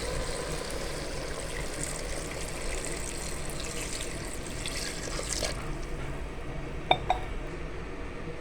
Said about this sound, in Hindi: 1 गिलास पानी शामिल करेंगे।